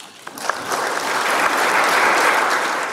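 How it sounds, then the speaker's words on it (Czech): Audience clapping after a talk, starting with a few scattered claps and swelling into steady, full applause from a room of listeners. "taky tleskám."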